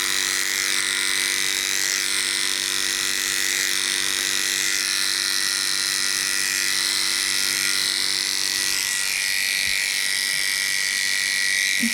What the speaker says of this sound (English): then run my clippers gently over that area